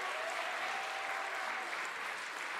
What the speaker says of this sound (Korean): 다시 한번 큰 박수 보내주세요.